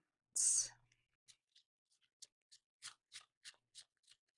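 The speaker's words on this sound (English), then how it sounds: "This is that last shuffle." Tarot cards are shuffled softly up close, a sharp riffle followed by a string of light, evenly spaced taps and flicks in a quiet room.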